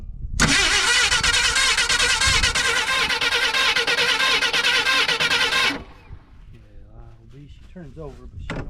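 A Fox Body Mustang's 200 engine cranks but does not fire. The starter grinds loudly and steadily for about five seconds, then cuts off and a person speaks.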